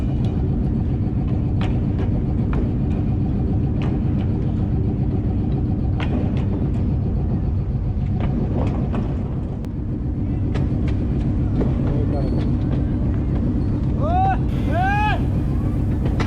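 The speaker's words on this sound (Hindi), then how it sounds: "अब लोकोमोटिव फिर LHF मोड में वापस रेक की तरफ ट्रैवल कर रहा है" Fareed Express locomotive rumbles heavily and steadily as it travels back toward the rake, a loud close engine drone with occasional clanks and a few high whistle-like squeals near the end.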